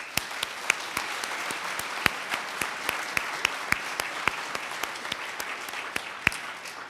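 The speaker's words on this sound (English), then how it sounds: "can we also clap for all of the amazing award winners and nominees?" Audience applause for award winners and nominees at a Class of 2025 awards ceremony, a steady wash of many hands clapping with sharper individual claps standing out, sustained throughout with no talking.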